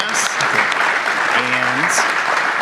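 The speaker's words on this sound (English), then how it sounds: "Want to give a round of applause to our guests here on the stage." An audience claps for guests on stage at a live identity-industry conference event, with steady, dense applause filling the room throughout and a few brief tonal sounds over it.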